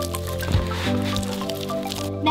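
Clear slime being mixed with activator, giving wet squishing and sticky squelching sounds over a sustained musical background, with occasional sharper wet pops.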